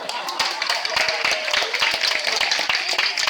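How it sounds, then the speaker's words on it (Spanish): Audience clapping at a neighbourhood entities showcase in Eixample, dense rapid claps forming steady applause for the costume person, with voices mixed in underneath. "Un aplauso para la de vestuario."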